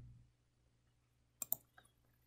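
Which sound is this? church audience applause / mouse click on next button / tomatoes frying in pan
mouse click on next button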